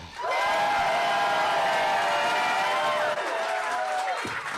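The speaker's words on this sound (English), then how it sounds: "The crowd here is adorable. Ah, listen to that." A live show audience in Los Angeles cheers and applauds loudly, a dense, sustained wash of crowd noise and voices that fades away near the end.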